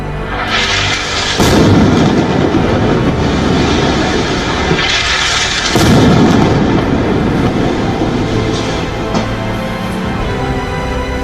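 Explosions and heavy rumbling from fighter jet and tank strikes in Khan Yunis; a loud, continuous roar with two big surging booms, no voices.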